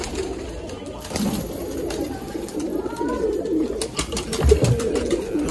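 Pigeons coo softly and repeatedly, close by on a rooftop, with low throaty calls rolling over one another under faint background noise.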